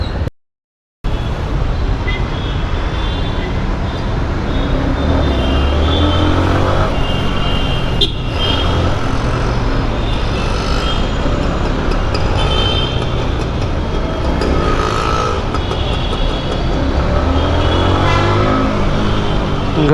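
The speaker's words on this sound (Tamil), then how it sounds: "சரியான டிராஃபிக்." Heavy city road traffic in Chennai, heard from a moving motorcycle: a loud, continuous roar of engines, passing cars, buses and trucks, with occasional revving, blended with rushing wind noise close to the rider.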